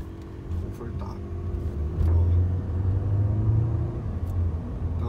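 Cabin noise inside a Volkswagen Polo MSI 1.6 automatic on the move, a steady low engine and road rumble that swells slightly midway, with someone speaking over it.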